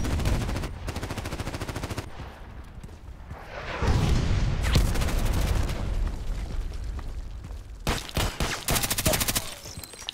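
Vintorez sniper rifle fired rapidly in a deathmatch video game. Dense bursts of suppressed shots rattle in quick succession, stopping, restarting, and ending in a loud flurry of near, sharp reports.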